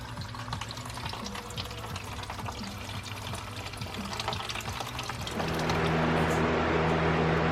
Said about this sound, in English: this is fresh distilled water that we're going to be flushing out our cooling system with